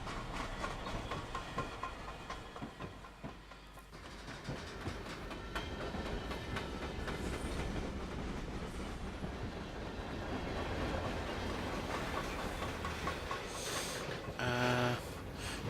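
A Norfolk Southern ES44AC hauling coal freight rolls past at a steady distance, with a continuous rumble, wheel clatter and hiss over the coal district line, ending in a brief clank.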